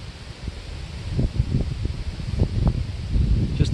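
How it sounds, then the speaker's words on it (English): Wind gusts through rustling leaves in the woods, a close, steady airy rush with scattered crackles and swishes of foliage building slightly louder over time. "wind."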